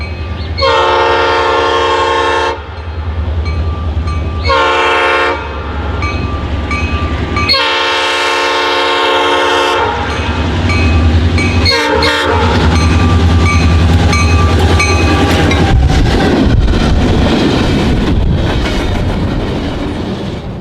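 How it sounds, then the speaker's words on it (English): A Norfolk Southern freight train led by a former Southern Railway GP38-2 locomotive sounds several loud horn blasts, then rumbles past close by with heavy engine drone and clattering wheels on the rails. "Led by a former Southern Railway GP38-2 running long hood forward, the train sped by our camera."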